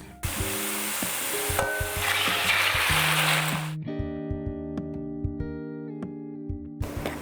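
Beaten eggs hit a hot frying pan for migas with a loud, hissing sizzle that runs for nearly four seconds and then cuts off, leaving soft background music playing on its own.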